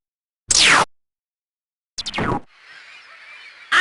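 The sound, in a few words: birds honking in Virgil Reality video game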